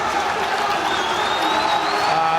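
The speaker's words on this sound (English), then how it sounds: "As the crowd reach a crescendo." Football stadium crowd at a Wrexham v Charlton Athletic match roaring and applauding as kickoff nears, a dense, steady wall of cheering with no breaks.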